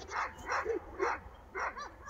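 A female Akbaş dog barks four times in quick succession, sharp and fairly close, with short gaps between the deep, forceful barks and a faint whine between them.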